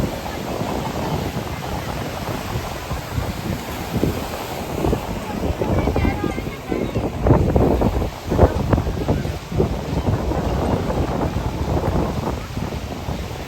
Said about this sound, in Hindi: ये इधर ये देखिए वेव्स देखिए पत्थरों पे कितनी तेज आ रही है।